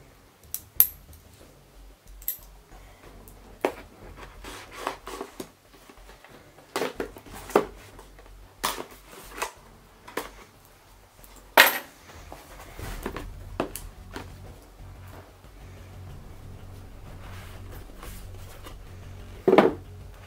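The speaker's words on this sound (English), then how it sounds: "So let's tear into the packaging here." Marshall Monitor headphones packaging is torn open by hand, with scattered sharp snaps, crinkles and scrapes of cardboard and plastic at irregular intervals, close and fairly quiet, over a low background rumble.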